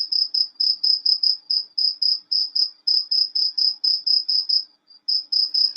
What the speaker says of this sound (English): all we heard was crickets.